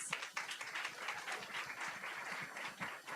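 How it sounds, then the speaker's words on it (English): An audience at a women's health summit claps in a fairly quiet, steady patter of scattered hands, with individual claps standing out now and then, lasting a few seconds. "Please give them a round of applause"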